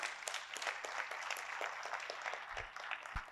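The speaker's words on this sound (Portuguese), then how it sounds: "Você pode dar uma forte salva de palmas a esse Deus?" A church congregation at a family service breaks into sustained applause, a dense and even patter of many clapping hands that holds steady throughout at a moderate distance.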